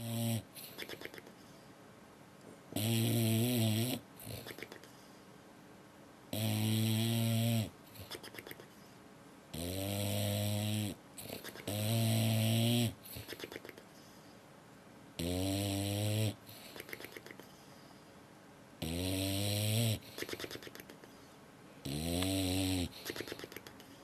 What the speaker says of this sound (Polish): Większość psów chrapie jednak.